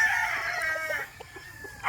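A stag gamefowl rooster crows once, close and loud, on a gamefowl farm, with the crow trailing off into a few faint clucks.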